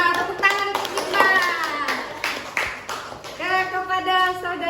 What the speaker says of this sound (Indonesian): Tepuk tangan untuk Rikma.